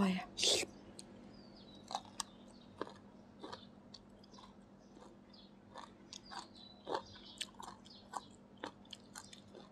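Crisp bites and chewing of crunchy pickled young mango, with sharp loud snaps close to the mic followed by a run of quieter crunches, under soft whispering.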